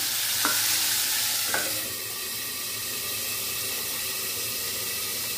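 Peanuts roasting in a covered pan for peanut chutney give a steady close sizzle and hiss, with two short metallic clinks from the lid early on and no speech.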